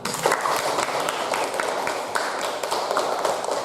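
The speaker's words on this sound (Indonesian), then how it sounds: "Beri tepuk tangan." A classroom of students claps together, a dense patter of many hands, close and lively for several seconds.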